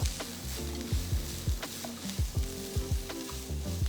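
Vegetables and onions seasoned with salt sauté in a kadai for rava upma, as rhythmic stirring strokes knock and scrape over a continuous, fairly loud sizzle.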